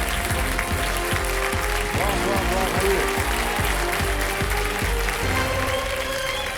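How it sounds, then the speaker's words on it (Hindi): A studio audience on a televised quiz show applauds to welcome a contestant, steady clapping running under a regular pounding music beat while a host's voice exclaims over it. "जोरदार तालियों के साथ इनका स्वागत किया जाए।"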